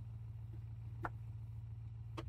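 A car engine idles in the BeamNG Drive driving game, a quiet, steady low drone with two brief clicks over it.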